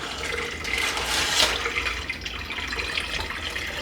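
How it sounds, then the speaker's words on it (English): Brisket juice from a smoked brisket pours steadily into a fat separator, making a continuous liquid splash and trickle that stays even throughout with no talking. "I'm going to pour it down into my fat separator"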